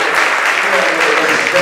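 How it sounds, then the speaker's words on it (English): A crowd of locals gives a round of applause for the sheriff's deputies at a Valley Fire community update meeting, a steady clapping wash that holds evenly through the whole moment without a break. "big round of applause."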